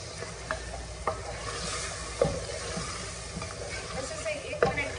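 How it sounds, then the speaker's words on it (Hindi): Mutton fries with onions in a pot, a steady sizzle with occasional scrapes and clinks of a spoon stirring against the metal, fairly close and unaccompanied by talk. "मटन को ऐड करने के बाद आप 1 मिनट के लिए अच्छे से प्याज के साथ भून लें"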